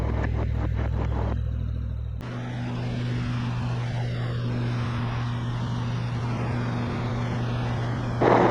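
Mooney light aircraft engine at takeoff power on runway 30 right, a loud, steady droning roar that fills the cabin throughout with no voices.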